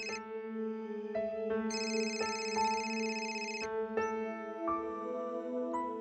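A melodic electronic phone ringtone plays loud and close, a repeating pattern of bright chiming tones with no voices.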